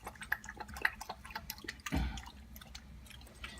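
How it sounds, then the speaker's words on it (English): A puppy laps water from a bowl during housebreaking, with soft wet clicks and slurps coming in quick, irregular bursts, close by and quiet. "We brought her in, she's drinking some."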